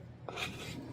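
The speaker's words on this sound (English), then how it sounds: "So I'm just scraping the sides of the bowl" A spatula scrapes the sides of a mixing bowl holding Amish onion fritter batter, a steady close rasping rub that runs continuously without talk.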